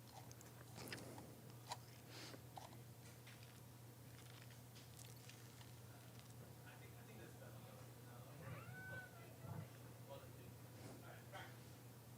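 A cat meows a few times at an indoor workplace, the short calls rising over steady room hum and occasional clatter, with voices talking nearby.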